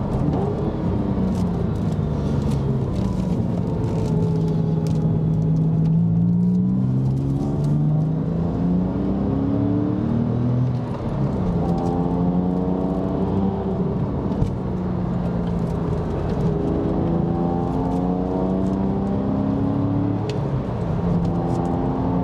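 Porsche 997 on its first drive with a newly installed engine, a continuous engine note from inside the car rising and falling in pitch as it revs through the gears, brassy and fairly loud with no voices.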